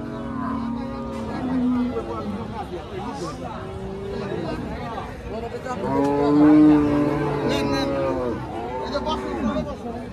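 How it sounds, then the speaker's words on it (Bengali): A large dairy cow of the Rani breed lows at a busy cattle market. Its moos rise over a steady babble of people talking and haggling nearby. "হ্যাঁ, বিশাল বড় ধরনের গাভী।"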